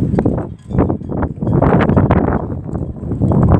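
Strong wind buffets the microphone in loud, rumbling gusts that barely let up, with a roaring, booming texture throughout, at an abandoned railway in Weymouth.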